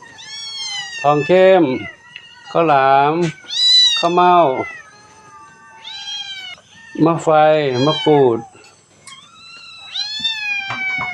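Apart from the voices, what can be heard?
cats meowing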